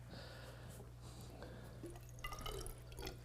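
Water filling a glass test tube, with faint trickling and small drips over a low steady hum, quiet and close.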